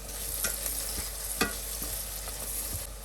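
Onion and bay leaf fry in a pan for a slow-cooked lamb biryani, with a constant close sizzle broken by a few sharp stirring clicks and scrapes.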